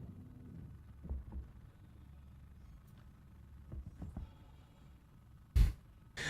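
A low, steady mechanical hum of air cycling aboard a ship in the Star Citizen video game, with a few soft thumps over the drone and a sharp loud burst near the end.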